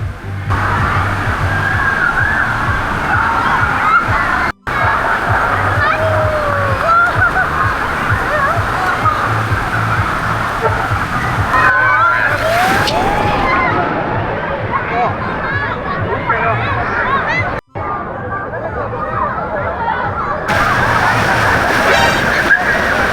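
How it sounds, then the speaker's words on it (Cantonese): Wave pool at a Shenzhen water park churning and sloshing with steady splashing water, loud and continuous, mixed with a busy crowd's babble and people talking nearby. "而家做浪開咗嗰啲浪啊！"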